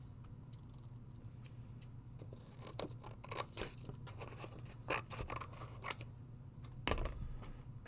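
Scissors snip through paper to cut out a shape: a steady run of quiet, close, crisp cuts and small scrapes in a still room, with no one speaking.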